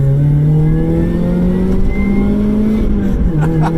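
A supercharged Mazda MX-5 pulls hard in second gear along a narrow country lane, its engine note rising steadily and loud throughout, heard from inside the car.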